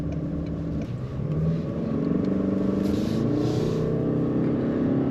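A 2024 Toyota Crown accelerating, heard from inside as a steady low engine and road rumble that swells slightly and holds, with no talking.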